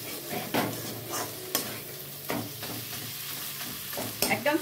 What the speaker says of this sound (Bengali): সিম করে আমি ভালো করে নাড়িয়ে নিচ্ছি।